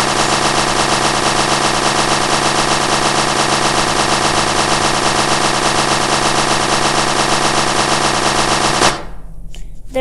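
Shotgun and submachine gun fire from the Melon Playground video game rattles out in one dense, unbroken burst of rapid shots for about nine seconds, then cuts off abruptly, with no talking.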